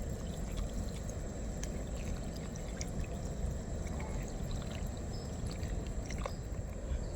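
Boiled milk pours steadily into a pan for bread halwa, a soft continuous liquid splash and trickle with faint background hiss throughout.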